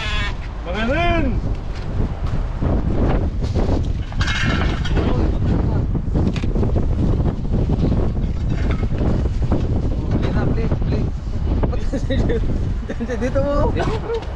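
Gusts of wind buffet the microphone outdoors at a day market, giving a low rumbling roar throughout. People talk over the wind.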